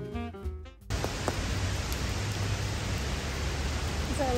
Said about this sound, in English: Then it started storming.